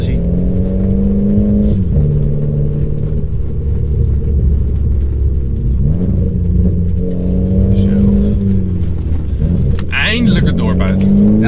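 A Renault Clio IV RS engine with an aftermarket exhaust rumbles steadily and loud throughout, with shifting revs and a throaty low drone, while people talk over it.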